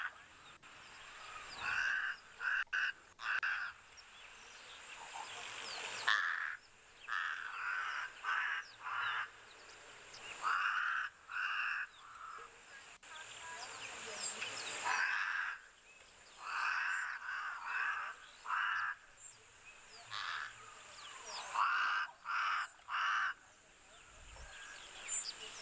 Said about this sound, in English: this crow is loud